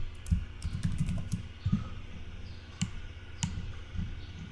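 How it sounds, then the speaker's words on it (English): Someone types on a computer keyboard while making a banner in PowerPoint: quick, close, irregular key clicks in short bursts with brief pauses, clear and alone. "So I'm just typing it logo."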